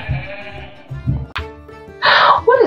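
Sheep bleating in Ireland, several loud, close wavering bleats in succession, the last one higher and brighter.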